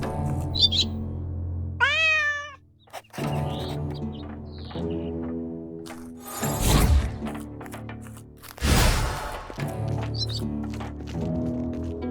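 A cat in the video game Drova meows as a short, rising-and-falling call, surrounded by ambient game music and effects, with two louder bursts of sound effects later on.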